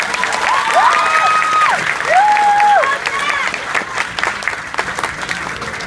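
A graduation audience applauds the valedictorian at Riverside Academy West, with steady crowd clapping throughout and a few cheers rising over it.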